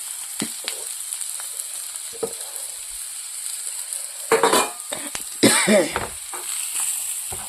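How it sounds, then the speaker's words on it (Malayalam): Spice powders hitting sautéed onions in hot oil for a tomato curry, a steady sizzle with sharp scraping stirs of a spoon against the pan, louder bursts of frying near the end, no talking. "ഉള്ളിയൊക്കെ ഒരുമാതിരി വഴന്ന് വന്നിട്ടുണ്ട്. നമുക്ക് അതിനകത്തോട്ട് പൊടിയിലിട്ട് കൊടുക്കാം."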